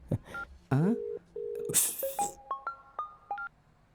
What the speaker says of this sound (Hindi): ये ले, एक फोन करके देखता हूँ उसको।